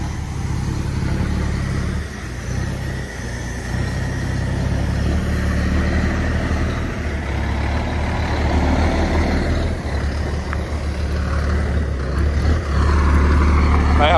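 A truck engine roars on a road, a loud, low, continuous rumble that swells and dips with shifting revs and rises again toward the end, close by, with people talking over it.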